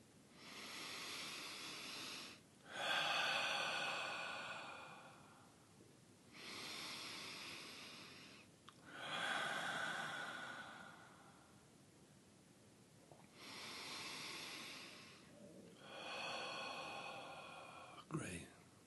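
Slow, deep breaths during a guided meditation exercise, each long airy inhale or exhale lasting a few seconds and separated by brief quiet gaps, breathy and close with no talking.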